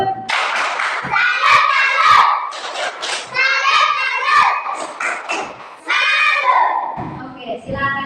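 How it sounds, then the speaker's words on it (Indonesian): Primary school classroom pupils clap for the second presentation group, with rhythmic claps and thumps mixed into loud children's chanting and shouting. "Kita kasih tepuk tangan untuk kelompok kedua."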